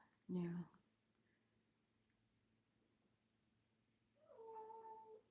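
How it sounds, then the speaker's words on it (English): A cat meows twice, a short cry at the start and a longer, drawn-out meow near the end, in an otherwise quiet room. "that's my cat meowing"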